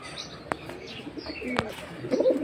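High-flying pigeons of silver, Giribaz and similar breeds kept near a loft, with soft low cooing, a few sharp chirps and light wing flutters nearby, calls short and irregular.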